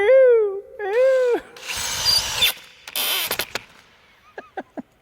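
Cordless power drill driving screws into wood, short whining bursts that rise and bend in pitch with a squealing screw sound, followed by harsher grinding runs and a few faint taps at the end.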